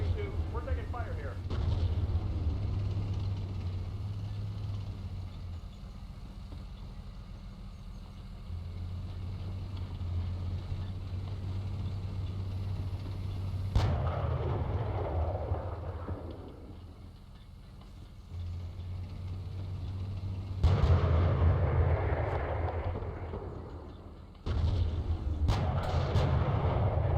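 Tank gunfire in the Steel Beasts Pro PE combat simulator: a few loud, sharp blasts land at intervals over a steady low engine rumble, with a voice talking through much of it.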